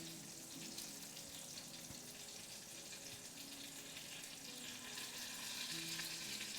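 A reverse-seared rack of pork sizzles in a hot pan, a steady crackling hiss with scattered pops, close and continuous.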